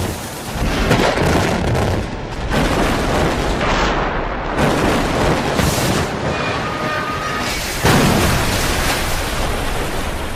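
Loud, sustained rumbling and crashing of a bridge being brought down, a continuous heavy roar with sharper bursts toward the end.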